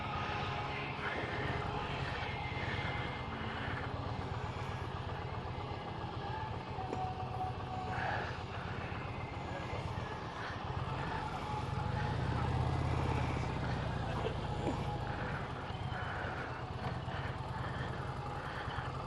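A 2020 Indian Challenger Darkhorse motorcycle pulls away in first gear, its engine a steady, loud low rumble that swells slightly as it accelerates, with wind noise throughout and no talking.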